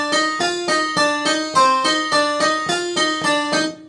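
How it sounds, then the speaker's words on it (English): Synthesized harpsichord voice from a studio keyboard workstation plays a steady run of plucked notes, about nine evenly spaced bright attacks with quick decays, close and alone with no talking. "I'll add a harpsichord sound."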